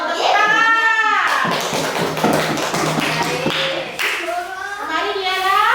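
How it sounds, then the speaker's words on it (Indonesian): Children clap their hands in a classroom, a loud dense burst of claps lasting a few seconds, with a teacher's voice speaking before and after. "Tepuk tangan."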